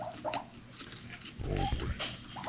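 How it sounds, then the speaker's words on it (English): Two pigs oinking in the Poptale game, a short low grunting snort rising midway after quieter squeaky noises, brief and close with faint background sound. "Oh, there's two pigs."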